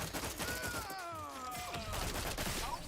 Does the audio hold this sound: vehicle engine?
no